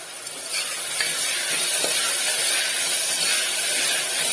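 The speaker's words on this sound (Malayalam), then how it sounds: "ഇതിലേക്ക് കിഴങ്ങും ക്യാരറ്റും ഗ്രീൻ പീസ് കൂടി ചേർത്ത് കൊടുക്കാം അതോടൊപ്പം ഇതിലേക്ക് പാകത്തിനുള്ള ഉപ്പ് കൂടി ചേർത്ത് ഇത് നന്നായിട്ടൊന്ന് വഴറ്റി കൊടുക്കാം" Onion, potato, carrot and green peas with salt sautéing in a pan for a vegetable kurma, giving a steady, close sizzle and soft hiss with faint stirring.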